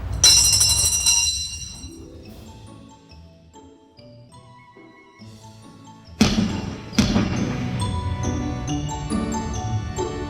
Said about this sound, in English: Each round starts when Susan rings the bell.